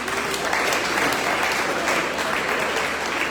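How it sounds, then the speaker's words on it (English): Steady, full applause fills a hall during a district representative's report at a community meeting, a dense wash of clapping with no breaks. "You clapping for this?"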